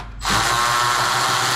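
A power tool kicks in abruptly after a brief pause and runs with a steady, loud whirring drone while snugging down a 13 mm bolt on the tailgate of a 1990s Chevrolet Silverado truck.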